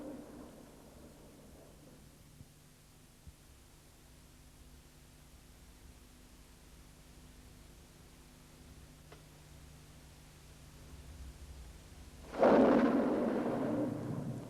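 A long stretch of faint hiss and low hum, then a sudden loud rumbling crash of thunder bursts in near the end and keeps rolling.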